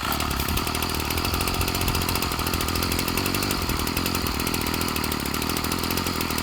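A Ryobi 740r engine runs steadily after a first pull on a warm start, a loud, continuous buzzing drone with no pauses and no talk over it.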